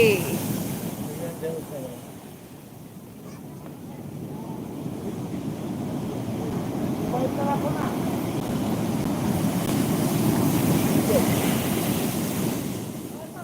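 Storm-surge sea waves at Digha Shankarpur churn as a continuous broad roar with gusty wind buffeting, swelling louder toward the middle and end, with voices talking faintly underneath.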